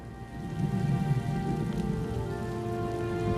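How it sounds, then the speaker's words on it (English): Storm rain in the video game The Elder Scrolls Online, a steady dense patter of rainfall on surfaces with a low rumbling undertone and a faint tonal hum, continuous and close. "I could do without this damnable rain. It's been storming since we arrived"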